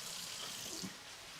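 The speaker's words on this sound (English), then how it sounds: "Get this microplaner all cleaned off." A microplane grater rinsed under a running kitchen tap, a soft steady stream of water splashing against metal in a sink, quiet and brief.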